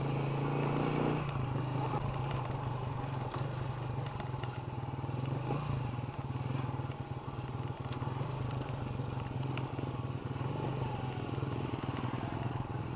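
A Motoposh Pinoy 125 motorcycle engine drones steadily and loudly while climbing uphill off-road, a low throbbing hum with rattling, growing slightly stronger as it pulls along.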